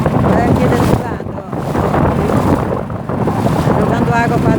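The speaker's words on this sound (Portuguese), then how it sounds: "ó, jogando água para dentro da canoa." Strong wind buffets the microphone as choppy river water slaps and splashes into a small outboard-driven canoe crossing the river, a loud, rough roar with surging bursts and no clear words.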